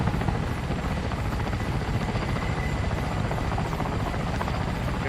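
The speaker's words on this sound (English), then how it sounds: "is the Mi-8." A Mi-8 helicopter in a video game, its engine and rotor producing a loud, steady whirring thrum with a rapid beating pulse throughout, no talking.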